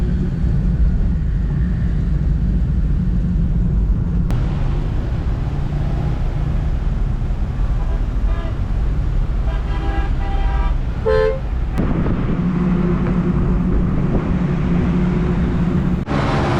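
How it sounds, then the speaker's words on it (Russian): Heavy traffic roars along a busy main road in Pakistan, with a constant loud rumble of passing cars broken by several sharp car horn toots, some short and some held, close by. "Так, сейчас мы на главная дорога. Машин здесь очень много."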